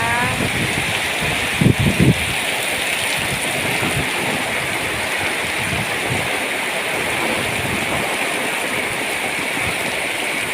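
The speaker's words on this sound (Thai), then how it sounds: "วันนี้ฝนตกห้าวันห้าคืนแล้วนะคะ" Heavy rain pours steadily in Phuket, a dense, loud and continuous hiss of downpour with a few brief thumps early on.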